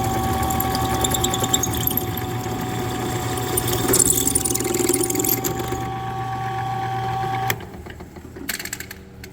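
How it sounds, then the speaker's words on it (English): A power drill whirs loudly and steadily for several seconds drilling holes for a dinghy light stanchion, then winds down and stops, leaving a few light knocks. "to drill the holes for the stanchion to hold the light for the dinghy"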